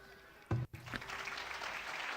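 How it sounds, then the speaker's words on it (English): Applause in the video game Farthest Frontier, a short burst of clapping sounds that flares then fades into a soft, busy background murmur. "thanks for the applause."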